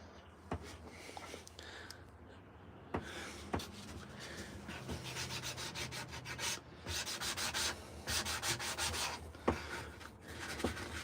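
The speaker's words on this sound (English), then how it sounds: "I like using these sanding blocks" A sanding block rubs across a wooden coffee scoop in a shop, with quiet, uneven scraping strokes and a few light knocks, close and alone without talk.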